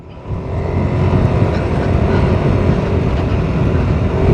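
A Yamaha Lexi 155 scooter's engine hums steadily while riding, a continuous, close drone blended with wind rush and road noise, with no talking.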